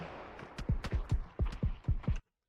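VSS suppressed rifle shots striking a player hiding behind a tree in a video game: a quick burst of about eight muffled, punchy shots in uneven pairs, fairly close and loud, with no talk.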